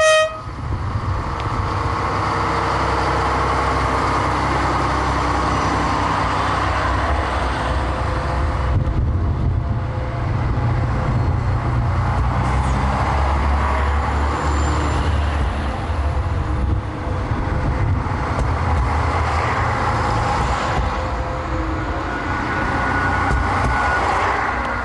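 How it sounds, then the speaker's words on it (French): Loud, sustained engine roar and rumble from a six-engined railcar on the Alps line near Grenoble, climbing a ramp in a blizzard, with droning motors and a horn-like tone, heard close and continuous. "le mécano va lancer ses 6 moteurs à l'assaut de la rampe et du blizzard"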